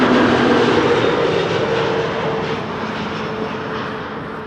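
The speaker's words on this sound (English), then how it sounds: "Next airplane to arrive over here will be an A320neo EasyJet arriving from London Luton" An EasyJet Airbus A320neo arriving at Amsterdam Schiphol on its approach from London Luton, a loud, steady engine roar that fades slightly as it passes.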